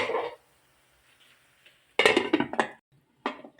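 A pot lid is set down on a pot of simmering ground beef seasoned with bay leaf and lemongrass, giving a few close metallic clinks and clatters in a short burst, followed by a softer clink moments later.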